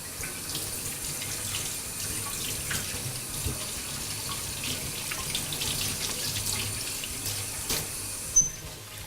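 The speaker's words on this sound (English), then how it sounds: "I'm going to wash the broccoli and cauliflower." Tap water runs steadily into a sink while broccoli and cauliflower are washed, a continuous splashing flow with small clatters and one sharper knock near the end, with no talking.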